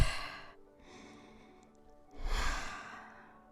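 A person takes deep, slow breaths in yoga child's pose: a soft exhale, then a long airy inhale, then a fuller audible sigh-like exhale, close and alone.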